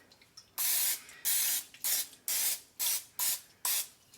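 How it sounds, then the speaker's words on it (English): Olive oil cooking spray spritzed into an egg bite mold in seven short bursts of hissing spray, each about a third of a second, close and fairly loud with brief quiet gaps between. "So I have some olive oil spray."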